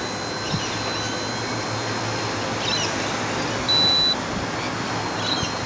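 A Blade mCP X micro RC helicopter flying in a park, giving off a steady, thin whine with a faint high beep, close by and heard with no talk.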